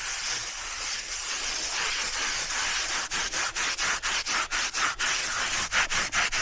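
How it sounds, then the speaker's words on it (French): A soft brush sweeps dried clay off a horse's coat in close, scratchy rubbing. The strokes settle into a quick, regular back-and-forth rhythm in the second half. "on va lui brosser son argile aussi"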